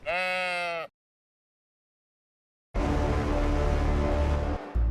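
A single close, loud sheep bleat with a strong wavering tone opens, then cuts to silence before dense, loud broadband sound fills the remainder.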